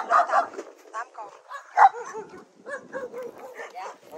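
Several dogs barking and whimpering at a rural home in the Mekong Delta region of Long An, excited yips and short barks in quick bursts, close by, mixed with a person talking over them.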